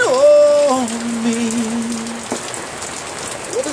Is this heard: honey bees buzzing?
no